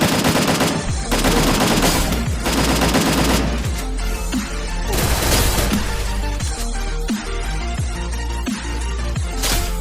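Rapid M4A1 rifle fire in the Free Fire video game, heard as repeated loud automatic bursts and sharp single cracks across the whole stretch, with short pauses between volleys and no talking.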